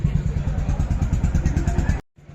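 A Renault 21 2-litre turbo idles close by with a loud, rough, throbbing exhaust burble that pulses steadily for two seconds before cutting off briefly.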